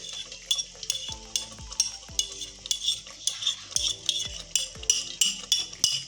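Motichur laddu mixture being stirred in a pan, with a steady run of scraping strokes and sharp utensil clinks against the metal, fairly close and without talk.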